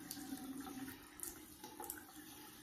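Tap water runs steadily into a sink while a face mask is rinsed off, a continuous close hiss and splash with no talking.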